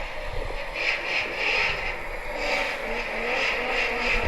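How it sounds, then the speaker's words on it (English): A loud BMW M3 aftermarket exhaust drones and burbles steadily, with a rhythmic pulsing rasp as the engine idles and revs slightly, close by. "You want to hear my car with her new exhaust?"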